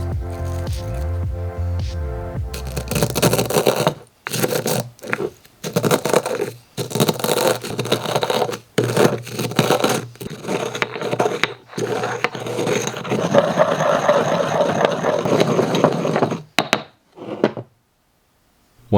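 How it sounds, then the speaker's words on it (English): Dried thin beet slices crushed and ground in a mortar and pestle, close crunching and gritty grinding in irregular bursts broken by brief pauses, steady and fairly loud throughout. "I dried some thin slices of beets in the oven. Immediately going into the mortar and pestle."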